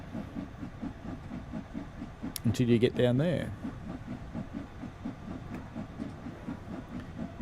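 A steam locomotive in Train Sim World 2 labours up a gradient, its rhythmic chuffs beating steadily under a short stretch of male speech.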